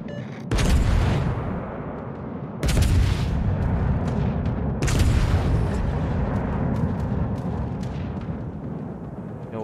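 Shells from the Marseille, a French battlecruiser in a naval warfare game, fire as three heavy booming salvos about two seconds apart. Each blast rolls into a rumbling roar over a constant low engine and sea drone.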